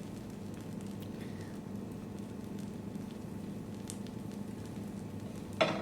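Dosa batter sizzles in a covered pan over a medium-to-low flame, a steady, soft hiss that stays even throughout, ending with a brief clatter.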